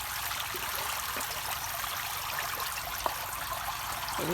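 Steady trickling and splashing water runs through a fish-water irrigation setup with aeration on a farm, a continuous close stream with a small drip or knock now and then.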